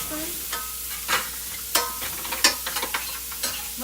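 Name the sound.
pre-minced garlic added and stirred in frying pan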